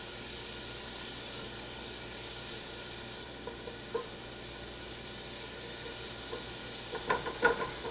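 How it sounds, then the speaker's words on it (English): Diced green peppers sizzle and fry in a pot while being stirred, a steady broadband hiss with a few soft scraping clicks from the spoon near the end. "Mix that all around so those flavors can marry."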